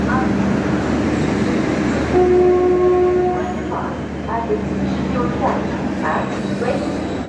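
Train noise at the Anand Vihar Terminal platform as the Sampark Kranti Express stands there: a steady loud rumble and hum with a sustained horn-like tone partway through, and voices in the background.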